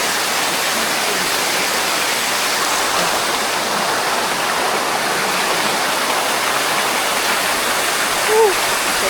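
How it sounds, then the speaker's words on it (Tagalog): Balite Falls in Amadeo, Cavite, heard as a loud, steady broadband rush of falling water, continuous and close, with a faint voice briefly near the end. "Punta natin yung falls. Yung falls oh."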